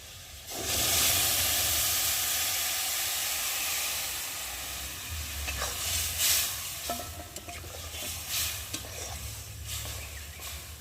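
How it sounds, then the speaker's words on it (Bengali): Boiled lentils land in a pan of hot fried spices for dal with a loud rushing sizzle that swells at once and then eases into a steadier hiss, followed by a few stirring clinks, and nobody speaks. "আর এবার আমি এই যে সেদ্ধ করে রাখা ডালগুলো এর মধ্যে দিয়ে দেব"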